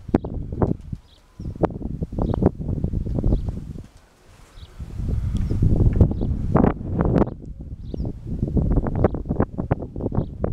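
Strong wind buffets the microphone outdoors in irregular gusty bursts during pigeon flight training, with a short lull in the middle before the rough blasts return.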